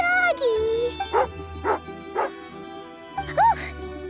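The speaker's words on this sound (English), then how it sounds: "Oh, a doggy." A dog named Tagarin in Genshin Impact gives several short, sharp barks and a whimpering yelp, each a brief burst, with a voice speaking over parts of it.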